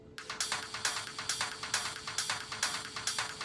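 Layered drum percussion of rim shots, toms and snares plays busy syncopated patterns, a quick, evenly pulsing run of crisp hits with a faint steady tone beneath, no voices.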